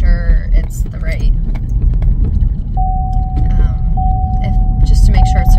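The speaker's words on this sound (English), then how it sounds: "seatbelt alarm going off" A car's seatbelt warning alarm sounds as a steady electronic tone that starts partway through, breaks briefly and resumes. It runs over a low vehicle rumble while people talk nearby.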